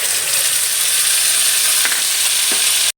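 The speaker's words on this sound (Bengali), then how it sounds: "ওই তেলের মধ্যে এলাচ লং ডালচিনিটা দিয়ে দিলাম দিয়ে বেটে রাখা পেঁয়াজ আদা রসুনের বাটাটা দিয়ে দিচ্ছি" Onion-ginger-garlic paste hits hot oil already spiced with cardamom, cloves and cinnamon, producing a loud, close, unbroken sizzle with a couple of quick stirring scrapes before it cuts off abruptly.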